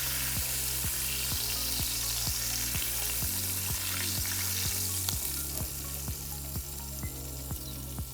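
Rib eye steak searing in a hot pan gives a steady, loud sizzle throughout, with a regular low ticking pulse running underneath and no voices.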